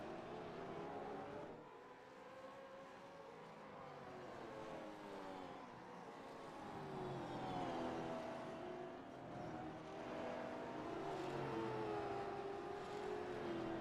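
Chevrolet race car in a video game at the Detroit Belle Isle Grand Prix, its engine whining and howling through rising and falling pitch sweeps as it shifts, steady and fairly loud throughout, with no talking.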